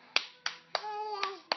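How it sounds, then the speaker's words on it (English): A child claps his hands five times in an uneven rhythm, the sharp, close claps separated by pauses, while a young voice babbles softly between them. "You're clapping!"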